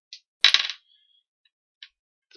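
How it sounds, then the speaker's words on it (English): Dice rolled during a tabletop role-playing game combat, a short burst of clattering that tumbles and settles within half a second, followed by a few faint isolated clicks. "But most of this combat is just me rolling dice."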